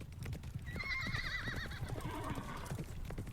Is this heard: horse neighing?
yes